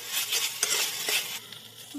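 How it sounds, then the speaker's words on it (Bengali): Mutton keema mixture fried and stirred in a pan over a high gas flame, giving steady close sizzling with scraping spatula strokes and a few sharp metallic clinks. "এবার গ্যাসের ফ্লেমটা এটা জোর দিয়ে ভালোভাবে একটু ভাজা ভাজা করে নেব।"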